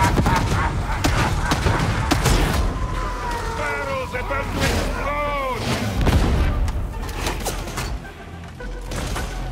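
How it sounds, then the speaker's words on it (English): Barrel explosion in the video game Warhammer 40,000: Darktide, heavy booming bursts and crackling gunfire in a chaotic firefight, loud and layered, with game voices over the din. "Barrels about to explode!"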